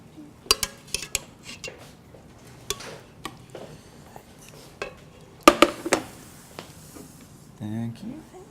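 Dishes and cutlery clink and clatter in scattered bursts as food is plated up, with sharp metallic taps and a louder cluster of clinks partway through under a quiet room background.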